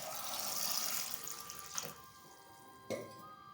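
Water pours steadily into a pressure cooker holding eggs, potatoes and tomatoes for an egg and potato curry, a close rushing splash that tapers off, followed by two short knocks.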